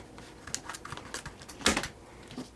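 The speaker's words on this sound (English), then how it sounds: "Get some help from an adult to cut the package open with scissors" Scissors cut open the plastic packaging of a compass in a quick series of crisp snips and crinkles, close up, with one louder cut near the end.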